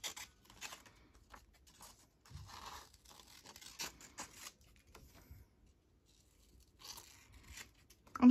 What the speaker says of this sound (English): let me just cut out this bird and see if I would like that